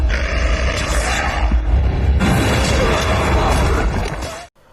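A loud, sustained blast as a tube holding snake eggs and a volatile chemical is shot and explodes, a roaring burst with crashing debris lasting several seconds before cutting off abruptly.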